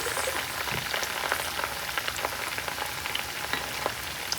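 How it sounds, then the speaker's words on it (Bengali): Food frying in a pan with several pieces cooking together, a steady crackling sizzle with scattered pops running throughout, fairly quiet and close, with no talking over it. "এখানে অনেকগুলো ভাজা যাবে একসঙ্গে"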